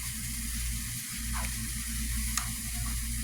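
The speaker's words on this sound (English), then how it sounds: "take some of this Cajun seasoning and add it to about this much butter. Give it a good stir around." Cajun seasoning and butter are stirred into corn in a pot, a steady soft sizzle with a low hum beneath and a few faint scrapes of the spoon.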